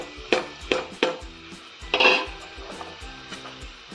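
Chopped onion, ginger, garlic and green chillies go into hot oil in a pan: several sharp clanks of a utensil against the pan, then a brief burst of sizzling spitting near the middle, and a low hiss underneath.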